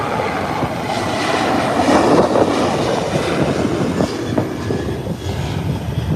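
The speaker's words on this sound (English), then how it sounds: "That's a beautiful takeoff." An American Airlines airliner accelerating down the runway on takeoff, a loud continuous engine roar that swells toward the middle and stays broad and heavy throughout, with no talk.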